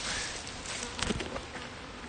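Honey bees from a colony being split buzz steadily in a close, continuous drone, with a brief louder swell as a few bees pass near.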